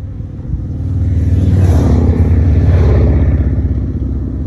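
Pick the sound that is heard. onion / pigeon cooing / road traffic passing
road traffic passing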